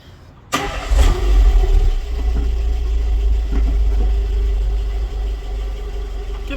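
A Renault Clio project car in Scotland, with a rattle, fires up abruptly, its engine surging briefly and then settling into a steady, close rumbling idle with small rises in pitch.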